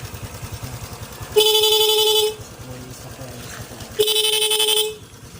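Two loud, steady honks from a motorcycle horn, each lasting about a second, sounding close over a low idling engine rumble.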